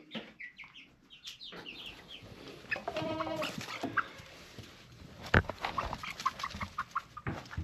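Chickens, including a young rooster, cluck and call in an outdoor farm lot, with scattered short clucks and squawks close by, some sharper and louder than others, with no speech.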